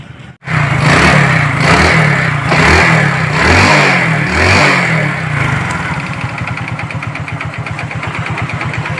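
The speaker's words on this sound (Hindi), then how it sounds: "अब मैं साइलेंसर लगाता हूँ और उसके बाद फिर मैं बाइक को स्टार्ट करके बिल्कुल आपको दिखाता हूँ" A Hero Glamour motorcycle engine with the silencer refitted fires up and revs hard several times, loud and close, then settles into a steady, rapid idle.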